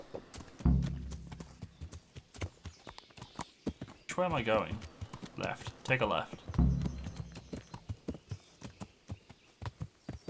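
Horse hooves clip-clop steadily while riding in Kingdom Come: Deliverance, a close, rhythmic walking gait with two heavier thuds, continuing under a voice talking through the middle.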